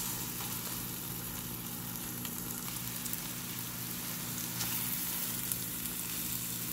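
Egg bhurji sizzles and crackles in a pan as it is stirred, a steady close frying hiss with occasional scraping touches and no talk.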